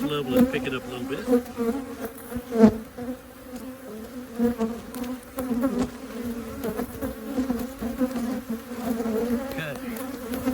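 Honeybees fill the air around an open hive being inspected, a moderate, continuous hum of many wings with single bees buzzing near and away, and faint knocks and rustling from frame handling.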